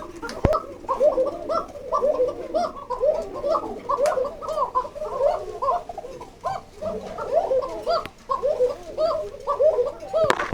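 Racing pigeons in a cage coo continuously, many overlapping throaty, rolling calls close by with a few sharp clicks, steady and busy throughout.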